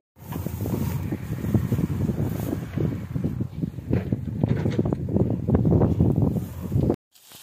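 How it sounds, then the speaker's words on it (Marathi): Cold winter wind blows at night outdoors, a continuous rough roar of buffeting gusts against the microphone, loud and steady for about seven seconds before cutting off abruptly. "एकदम गार वारा आहे, थंडगार हवा आहे."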